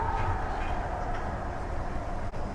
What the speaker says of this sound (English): And here we have the monorail, folks.